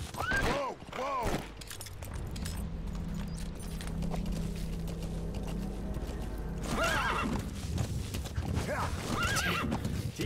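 D-Horse in Metal Gear Solid V neighs loudly in sharp whinnies, then gallops with rhythmic clip-clopping hooves over game ambience, followed by more whinnying near the end, with some voice faintly underneath.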